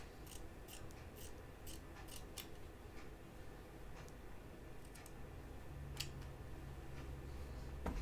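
Scissors snip fabric for a 1940s New England dress, with a string of crisp close cuts in quick rhythm, then a few sparser snips, faint over a steady background hiss.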